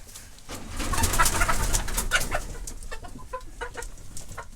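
Hens cluck and coo close by, a busy run of short calls over rustling, with the birds quieting toward the end.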